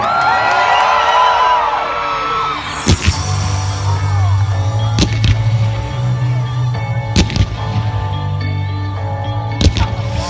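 Crowd cheering and whooping at the Lotterywest Fireworks Spectacular during the 2017 Perth Royal Show, with loud shouts and a few sharp bangs over a steady low rumble.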